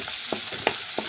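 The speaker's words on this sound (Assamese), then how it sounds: "ভাজি ল'ব লাগিব অকণমান" Crushed ginger and garlic fry briefly in a hot pan while preparing sesame pitika with tomatoes, a soft steady sizzle broken by three quick, evenly spaced stirring scrapes, close up and with no talk.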